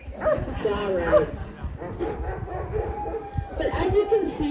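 Patrol huskies at a Denali National Park kennel yip and bark excitedly near the listener, with whimpering mixed in and people talking over the commotion.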